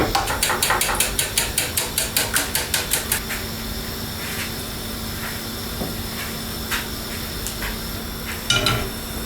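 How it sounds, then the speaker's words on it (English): Eggs being cracked into a tray for coating bread for croque monsieur, a quick series of sharp taps and clinks in the first few seconds, then quieter kitchen handling with a faint steady hiss and one more clatter near the end. "crack the eggs into a tray, then just season them with a little bit of salt and pepper"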